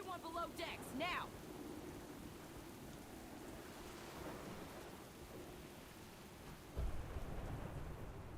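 A thunderstorm at sea in the World of Warcraft game rumbles with continuous rain and surf-like wash, a sharper thunder crack near the end, and brief voices or calls at the start.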